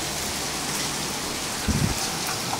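Heavy rain pours down steadily in a severe storm, a dense, loud, unbroken hiss of falling water with a brief low rumbling gust near the end and no voices.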